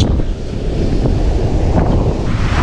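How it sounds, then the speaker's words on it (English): Beach breeze buffeting the microphone during surf fishing at Port Royal, Jamaica, a constant loud rumbling roar with surf wash mixed underneath and no voices. "probably you can hear the breeze in the background or maybe disturbing my voice"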